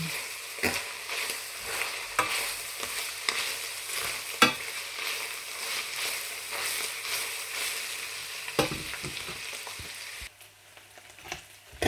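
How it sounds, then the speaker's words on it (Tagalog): Ground pork fries in a stainless pan with a steady bright sizzle, broken by sharp clacks of a stainless utensil scraping and stirring, until the frying quiets near the end. "Kailangan maluto muna yung giniling."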